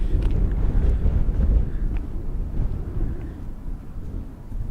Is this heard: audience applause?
no